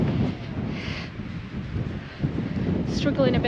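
Blustery wind buffets the microphone high on a Lakeland fell near Fusedale during an ultramarathon, a loud steady rush with swelling gusts, and a voice speaks briefly over it.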